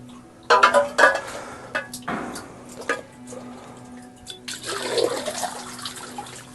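Water is scooped out of a vessel while making salt in a forest, with a few splashy scoops and clinks of a container at close range. Quieter gaps fall between them, and there is no talk.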